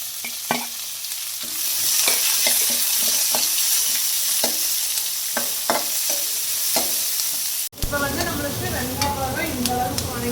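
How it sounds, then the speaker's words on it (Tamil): Onions, green chilies, curry leaves and garlic sizzle loudly in hot oil with repeated scraping stir strokes, then a sharp cut to a brighter frying hiss. "அடுத்து வந்து நம்ம தாளிக்க போகிறோம் வெங்காயம் பச்சை மிளகா நாலு கட் பண்ணி வச்சுருக்கேன்"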